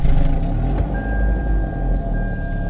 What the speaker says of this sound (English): this is what the car sounds like on start